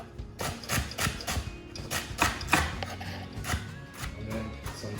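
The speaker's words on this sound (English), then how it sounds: "to chop some celery" A knife chops celery finely on a cutting board in a home kitchen, producing quick, irregular, crisp taps of moderate loudness close by, with no talking.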